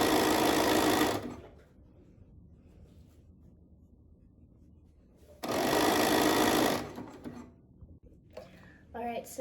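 A sewing machine basting a garment lining runs in two loud bursts, one at the start and a longer one mid-clip, with quiet handling between and light rustling near the end.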